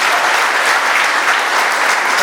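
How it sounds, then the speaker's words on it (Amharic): An audience applauding at a special Easter program, steady dense clapping from a crowd that fills the whole moment at close, even loudness. "ሲያጨብጭቡለት አጨብጭቡ።"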